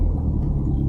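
A Vauxhall Astra VXR engine holds on two-step launch control, a loud, close, continuous rumbling drone with a rough, stuttering texture through the short stretch.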